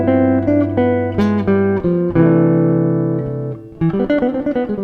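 Electric guitar plays a fluid lick with fast picked notes, some sustained tones and a quick flurry at the end. It is loud and close, with no talking.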